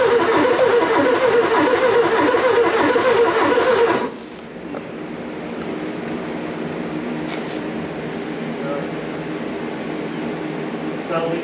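A Porsche 944 engine runs loud and rough at first, then drops abruptly to a steadier, quieter idle that continues to the end; no one speaks in this stretch.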